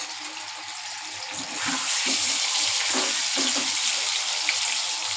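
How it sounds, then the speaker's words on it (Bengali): Eggs fry in hot oil in a pan while an egg curry is being cooked, a steady sizzle that grows louder partway through, with light stirring clatter and no speech. "ডিমগুলো সব একটু ভেজে নিচ্ছি"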